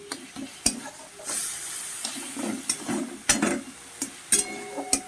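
Cauliflower leaves cooking as a sweetened curry in a pan, stirred steadily with a spoon: a soft sizzle runs underneath irregular scraping strokes and occasional sharp clinks against the pan, fairly close and with no talking.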